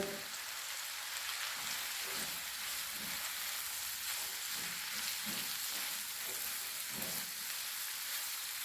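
Peas, carrots and potato cubes fry in a pan with a steady, loud sizzle like heavy rain, with occasional soft stirring scrapes underneath.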